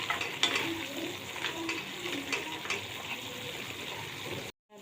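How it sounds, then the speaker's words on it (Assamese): Chopped ginger and garlic frying in oil in a pan for a fish curry, a soft close sizzle with stirring scrapes, fairly quiet and without talk, ending in a sudden cut. "আদা নহৰুখিনিও ভালদৰে ভুনিম।"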